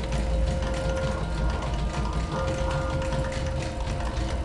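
A refining machine in the SCP Containment Breach game processing a gas mask on its very fine setting, a steady loud mechanical whirring and grinding drone with a faint tonal hum and no talk.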